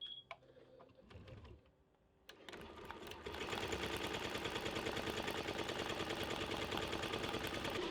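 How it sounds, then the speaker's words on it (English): An embroidery machine starts up after a few clicks and a short lull, then stitches out a design at a slow 480 stitches per minute in a loud, steady, rapid mechanical rhythm that continues to the end. "I'm fast forwarding on the machine just so I know where it's gonna actually start stitching out"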